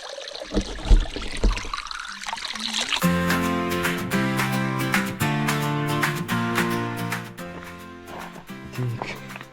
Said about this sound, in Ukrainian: тут є таке от джерело. Набираємо воду і рухаємось далі.